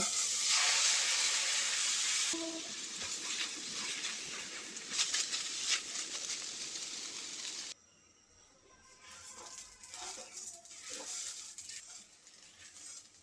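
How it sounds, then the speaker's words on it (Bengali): Washed rice fries in ghee in a pan with a loud, bright sizzle that drops after a couple of seconds, then continues as a steady crackle with stirring scrapes, briefly quieting before resuming. "নেড়ে চেড়ে চালটা আমি দুই মিনিটের মতো ভেজে নিয়েছি"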